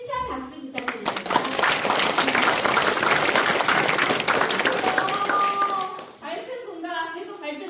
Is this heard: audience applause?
yes